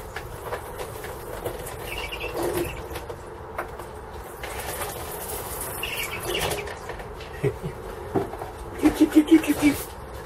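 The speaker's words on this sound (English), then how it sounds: "Now listen to this watering can, it sounds like a bird." A watering can on an allotment gives a run of quick high squeaks, bird-like, near the end, after a stretch of outdoor background noise.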